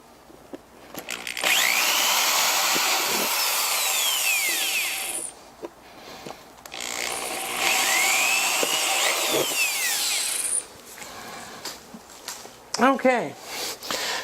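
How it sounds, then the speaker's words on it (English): Close, loud bursts from a power drill boring holes through the panel of a retro arcade gaming table, two long steady whines separated by pauses, then a shorter bit of drilling and some clatter at the end. "now, in order to make sure that I don't drill through the carpet"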